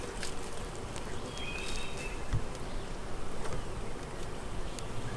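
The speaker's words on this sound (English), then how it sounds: "More nurse bees." Many Carniolan honey bees buzzing at an open hive in a dense, steady drone close by, with individual insects whirring past now and then.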